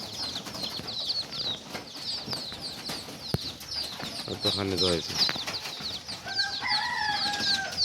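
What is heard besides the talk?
pigeons flying in to feed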